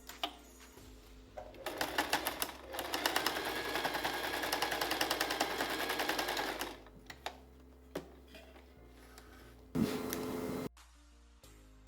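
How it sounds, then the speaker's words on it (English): A sewing machine stitches a box around the end of an apron strap, running in rapid rattling bursts: a long steady run, then shorter stop-start stitches with brief pauses between. "I can just sew a box around this small bit"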